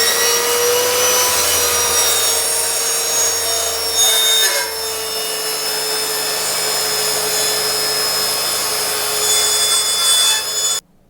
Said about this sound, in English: Then I'm going to make a test cut, and this should cut all the way through this 12mm MDF.